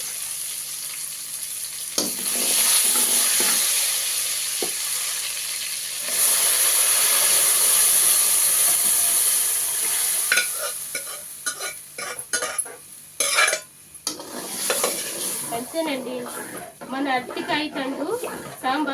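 A sambar tempering sizzles loudly in a pan and is stirred, with crushed coriander added. A steady hiss swells and breaks into scraping and crackling bursts, and a person talks over the later part.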